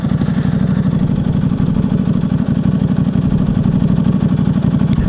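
A 2009 Buell 1125R motorcycle engine idles steadily close by, a continuous low throbbing rumble holding an even level throughout with no talking.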